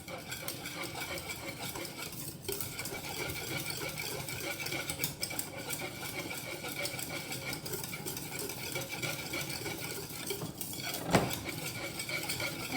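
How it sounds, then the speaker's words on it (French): Mashed potatoes stirred in a pot on a stovetop over low heat, a steady, continuous scraping and soft slapping that runs the whole time with only brief pauses, fairly close and moderately loud, with no voices. "Je remets au feu, je mélange."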